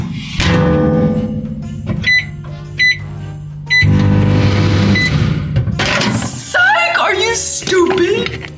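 A microwave oven heats Asian fried rice with duck indoors, with a steady low hum, a few beeps and door clunks, while someone talks nearby.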